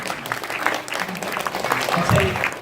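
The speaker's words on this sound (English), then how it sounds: "Let's go ahead and give him another round of applause." Applause from a crowd, dense clapping with talk mixed in, steady for a few seconds and swelling toward the end.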